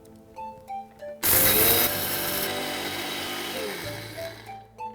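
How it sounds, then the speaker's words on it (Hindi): A kitchen mixer grinder finely grinds a mix of dry fruits and lentils in a closed jar, starting with a loud burst and then holding a steady, harsh whir for about three seconds before cutting out. "अब हम इन ड्राई फ्रूट्स और दालों के मिक्सचर को अच्छी तरह से फाइन ग्राइंड कर लेंगे।"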